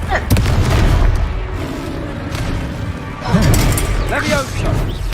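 Blasting spell explosions in the Hogwarts Legacy video game, several loud booming bursts around half a second and three and a half seconds, under dense game sound and a voice that keeps talking.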